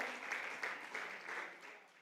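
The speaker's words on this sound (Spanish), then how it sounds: "Déselo al Señor fuerte, ese aplauso." A church congregation claps quietly, a soft, slightly uneven patter heard from a distance and fading toward the end.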